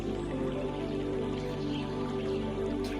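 Raindrops patter continuously for a meditation, a soft, even wash of rain blended with a sustained droning musical background.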